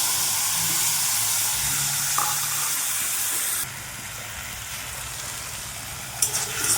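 Spice paste of ginger, onion, garlic, chilli and tomato sizzling steadily in a hot pan with oil, a continuous close frying hiss with a few light clinks near the end.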